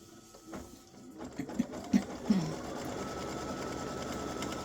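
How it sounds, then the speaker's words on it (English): An embroidery sewing machine stitches a line on a fabric mug rug in the hoop, whirring rapidly and steadily close by with a few louder mechanical clunks early on, and no talk. "I'm going to stitch color stop 7, which is going to do the same thing. It's going to stitch that line"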